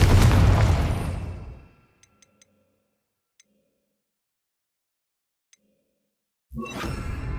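Fire spell blast in the Hogwarts Legacy video game: a loud, roaring burst that dies away over about two seconds, then near silence with a few faint ticks before another loud rush of sound returns.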